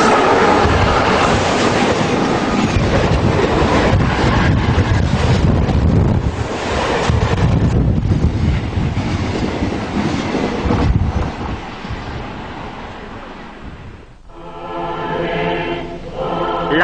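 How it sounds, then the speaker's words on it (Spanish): Train rolling past on railway tracks in Spain, a loud continuous roar with heavy rushing wind noise that eases off near the end. "me gusta ver el paso de los trenes"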